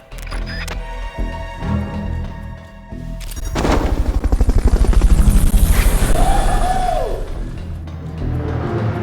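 A video game helicopter's rotor thumps in loudly and steadily, rising to a heavy chopping drone over several seconds, with mechanical clatter at the start, in Metal Gear Solid Peace Walker.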